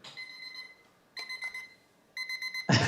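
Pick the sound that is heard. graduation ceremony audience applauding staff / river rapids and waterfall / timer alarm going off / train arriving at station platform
timer alarm going off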